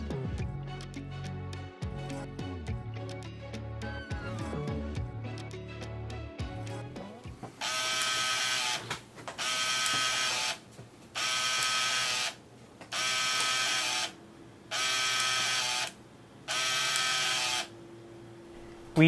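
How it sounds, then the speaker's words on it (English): A Game Boy Printer prints a test image with six evenly spaced bursts of mechanical buzzing, each about a second long, close and fairly loud, after a stretch of unrelated background music or electronic sound. "If everything works well, we can select a test image and print it."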